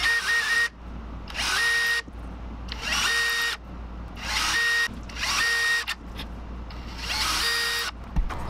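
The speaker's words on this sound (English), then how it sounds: "I'm gonna sand that joint back to that line." A power sander whirs in repeated bursts of about a second each, sanding a joint on a wooden fishing lure, starting and stopping in a steady rhythm, loud and close.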